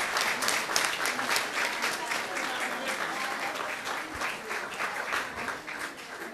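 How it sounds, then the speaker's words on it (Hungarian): An audience claps in sustained, dense applause at a school end-of-year concert in Kartal, Hungary, heard at moderate distance with faint voices mixed in. "Azért még egy tapsot"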